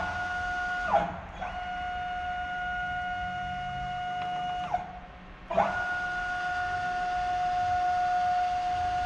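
Whining drive motors of a CNC plasma cutter gantry on a farm workshop, a steady electronic tone interrupted by a few sharp movement bursts and brief clicks, fairly quiet with no talk.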